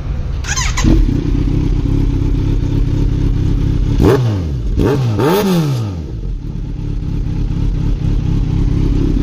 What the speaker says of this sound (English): So this is Z900 with Yoshimura Alpha exhaust.